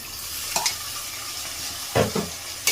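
Pieces of boiled boti (goat tripe) are tipped into frying masala and stirred, giving a continuous sizzle broken by a few sharp scraping strokes of the spoon against the pan.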